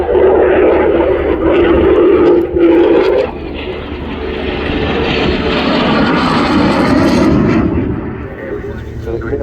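A demo aircraft makes a flyby at the RIAT airshow, a loud roaring engine rush that swells and fades as it passes, with a voice speaking over it.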